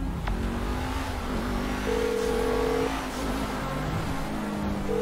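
A car in a Grand Theft Auto V street race holds a steady, loud engine drone, with its pitch rising and falling as it revs throughout, close and continuous with no talk.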